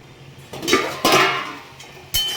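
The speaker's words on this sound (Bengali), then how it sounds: "চলো এখানে কটা বাসন আছে, ধুয়ে নিই" Dishes being washed: pots and utensils clank and knock together in a few separate bursts over a low running-water hiss, close up and fairly loud.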